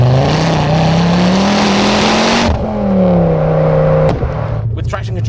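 Mk2 Ford Focus ST engine revving hard, the pitch climbing steadily, then cutting out abruptly and rising once more before another sharp drop, loud and close.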